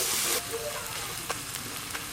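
Ground spices with dried red chilli paste, turmeric and cumin sizzling and frying in a pan for egg curry, a soft steady crackle close by, with faint stirring taps.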